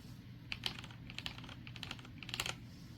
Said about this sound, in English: this is the KEMOVE K98SE mechanical keyboard. I got the red switch version.